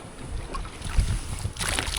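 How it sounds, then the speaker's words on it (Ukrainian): A small fishing boat rocks on the Psel River in Sumy with low, steady rumbling and gusty wind buffeting the microphone, with a slightly louder swell near the end. "виплили ми з Максом вже на воді"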